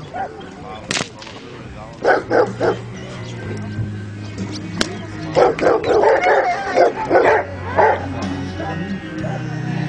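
A dog barks in sharp, repeated bursts during a sport protection training demonstration at a Bulgarian specialty dog show, the barks loud and close, with someone talking over them throughout.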